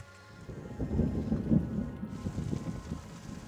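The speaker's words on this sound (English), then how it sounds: "I think it's a little too much rain." Rain falls steadily during an Arizona thunderstorm, a soft continuous patter with a low rumble swelling in the middle, heard alone.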